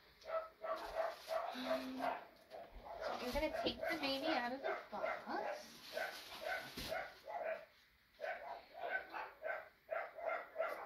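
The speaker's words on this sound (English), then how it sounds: "Oh, you have to excuse the barking dogs." Several dogs bark repeatedly in the background, overlapping and fairly loud, while a person speaks throughout.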